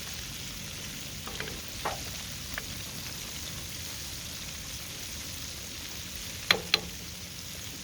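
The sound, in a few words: shrimp deep frying in oil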